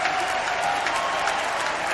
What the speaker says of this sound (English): we've got an enthusiastic audience here